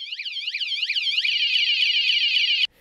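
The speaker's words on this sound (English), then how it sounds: "If anybody tries to move your scooter, the alarm will activate" A mobility scooter's anti-theft alarm sounds loud and close, a rapidly warbling electronic siren that switches to a steady high tone before stopping abruptly.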